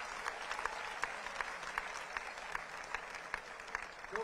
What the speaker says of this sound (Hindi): तो एक बार उनके लिए भी जोरदार तालियां।